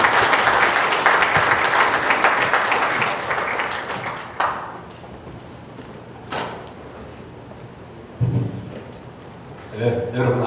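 Audience applause welcoming a lecturer at a high-tech breakfast lecture event, fairly loud at first and fading after about four seconds, followed by quiet room tone with a few sharp knocks and thuds.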